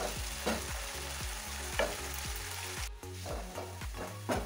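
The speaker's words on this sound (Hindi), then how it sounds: "प्याज को खूब अच्छे से चलाते हुए लहसन और अदरक के पेस्ट के साथ लाइट ब्राउन कर लें" Onions brown with garlic-ginger paste in a pan while being stirred, a constant close sizzle broken by repeated spoon scrapes in a loose rhythm, with no voices.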